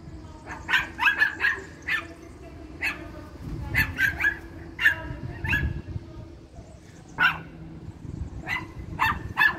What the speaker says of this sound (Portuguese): Uns cachorrinhos barulhentos aqui.